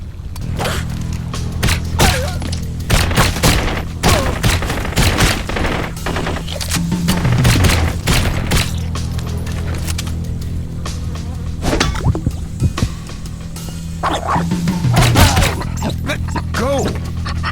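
Gunfire in the action shooter video game Blue Estate, loud rapid bursts and repeated shots with crashes and impacts, mixed with game sound and occasional voices across the whole stretch.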